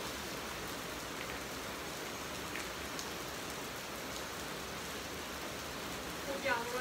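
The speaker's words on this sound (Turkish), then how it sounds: "Yağmur yağıyor arkadaşlar." Heavy rain pouring down outside, a dense, steady hiss of drops hitting surfaces that stays constant and loud throughout, with a brief sharper sound near the end.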